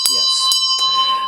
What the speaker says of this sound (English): I'm going to ring the bell now, and then I'm going to put it away